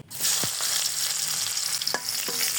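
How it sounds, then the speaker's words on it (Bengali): Chopped onion hitting hot soybean oil for a drumstick-leaf bharta, a steady bright sizzle filling the whole stretch with a few soft stirring knocks, close and alone without voices. "তেলের মধ্যে দিয়ে দিব পেঁয়াজ কুচি"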